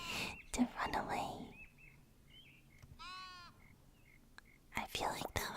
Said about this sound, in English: The sheep finding each other.